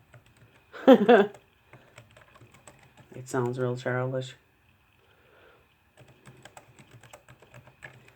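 Computer keyboard keys tap in soft, quick, uneven bursts, faint and close, with someone speaking briefly in between.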